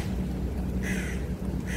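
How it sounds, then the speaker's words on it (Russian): A crow caws twice from a distance, short raspy calls standing out over steady light rain and low traffic rumble on a street in Izmir, Turkey. "Где-то каркает ворона."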